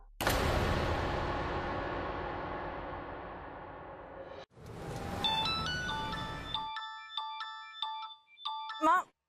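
A loud sustained tone fades out, then a bright electronic phone ringtone plays a quick tinkling melody of repeated notes, ending abruptly.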